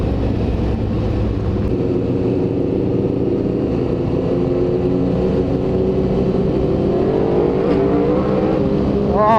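A loud Aprilia RSV4 superbike engine drones steadily on a Mumbai road, its tone climbing gradually as it revs, with a rising whine near the end and no talk over it.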